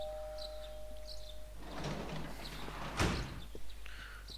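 A door sound from the Persona 4 Golden video game: a faint tone fades out, then a sliding rattle swells and ends in a sharp knock or slam, with a soft thud shortly after.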